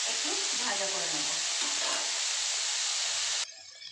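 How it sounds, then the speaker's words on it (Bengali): Sliced pointed gourd (potol) fries in hot oil in a pan, a loud, close, steady sizzle with crackling and stirring, briefly overlapped by a voice before the sizzle drops sharply at the end. "এখন আমি পটলটা ভালো করে একটু ভেজে নিই"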